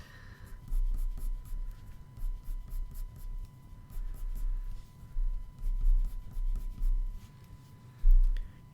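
Prismacolor colour pencil strokes on paper, a steady scratchy rhythm of close, soft scribbling in repeated bursts with short pauses between.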